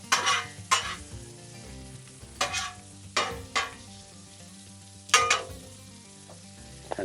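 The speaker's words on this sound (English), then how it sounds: "Get a little bacon fat in there," Bacon fat sizzles on a griddle with croutons, a soft steady frying hiss broken by several sharp scraping stirs and clinks of a utensil.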